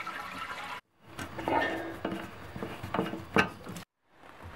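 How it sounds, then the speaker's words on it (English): Water rushing and gurgling as an old toilet tank drains with the stopper pulled, a close, moderately loud splashing flow in bursts, broken by two short silent gaps. "just pull up the stopper and let the water drain out"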